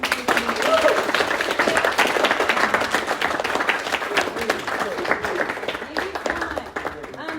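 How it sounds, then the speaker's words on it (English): Audience of middle school students clapping for their classmates, a lively patter of individual claps with crowd voices mixed in, steady and fairly close before tapering at the end. "Will you guys give them a round of applause?"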